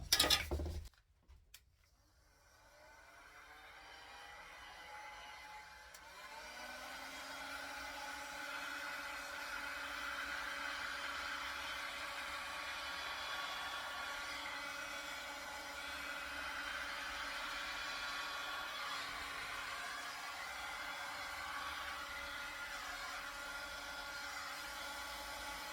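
A heat gun blows a steady, hissing stream of hot air across resin artwork on an artist's palette, running continuously and fairly close after a brief sharp start, with no talking over it.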